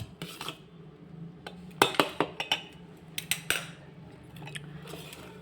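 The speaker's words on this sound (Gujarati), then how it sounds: "હવે આપણે બધું જ મિક્સ કરી દેશું" A utensil clinks and scrapes against a bowl while wheat flour batter for sweet pudla is stirred, giving irregular clusters of sharp taps and wet squishing between quieter pauses.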